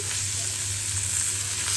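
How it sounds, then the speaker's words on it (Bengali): Chicken frying in a pan gives a constant, even sizzle with a low hum beneath it, brief and uninterrupted. "চিকেনটা একটু আমি ভেজে নেব হালকা ভাজা ভাজা করে নেব"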